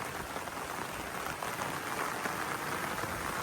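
Rain falls steadily on a watermelon patch in a remote mountain area, a dense, even hiss of drops that continues without break and without voices.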